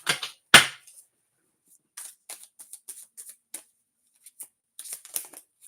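Roughly 100 cards riffled and shuffled together by hand, a sharp burst of card flutter at the start followed by scattered soft flicks and snaps, close and dry with no talking.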